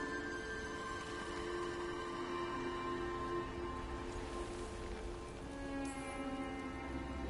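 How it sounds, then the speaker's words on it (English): Soft, steady rain falls in a Dragon Age game, a gentle continuous patter of drops layered under a low, quiet ambient music bed. "Drip rain, not mist rain."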